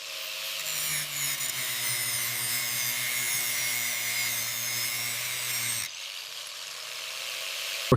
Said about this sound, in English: We're carefully machine sanding the curved fenders, turning that damaged paint into fine dust to expose the raw steel.